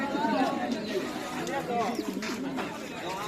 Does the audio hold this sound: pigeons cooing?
yes